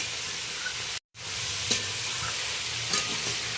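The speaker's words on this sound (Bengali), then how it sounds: "ভালো করে নাড়াচাড়া করে নেব।" Greens with potato and eggplant, freshly salted, frying in a pan for a chikni shaak curry, giving a steady close sizzle broken by a sudden brief gap and faint scrapes of stirring.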